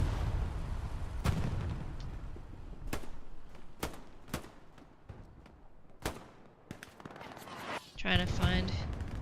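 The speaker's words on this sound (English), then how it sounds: "Looks as though they got taken out by artillery as well." Artillery shells and gunfire in the video game Hell Let Loose crack out in sharp, loud, irregular bursts, some close and some farther off, with a flurry of firing near the end.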